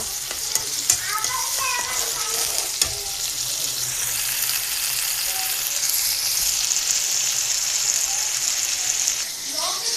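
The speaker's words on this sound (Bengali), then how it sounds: "এখন আমি পেঁয়াজ আর রসুন বেশি ভাজা হলে ডাল দিয়ে দিব।" Onion and garlic frying in a pan before lentils are added, a continuous close sizzle with a few sharp clinks and scrapes early on, and a faint voice briefly in the background.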